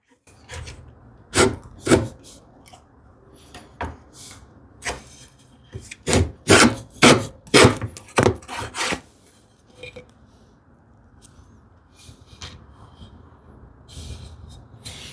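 A homemade wooden rebate plane with an O1 tool-steel blade takes rough strokes across wood. Each pass is a short scraping rasp, repeated in irregular bursts and close up, with a quick flurry in the middle.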